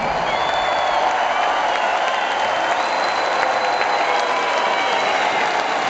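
Arena crowd at a concert at Wembley Arena applauding and cheering for the band's road crew, a steady dense roar of clapping and whistles that holds at full loudness throughout.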